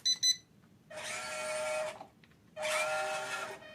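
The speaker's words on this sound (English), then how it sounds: "So you can hear the beep. So one beep is low, two beeps is high." Two quick high electronic beeps from a 1:18 scale RocHobby Magnum off-road RC truck switching to high speed, then two sustained bursts of whining electric-motor hum separated by a short pause.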